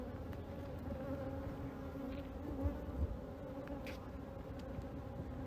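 Steady, dense buzzing of many honey bees during a hive inspection and split at an apiary, a low constant drone with occasional closer passes, with no talking.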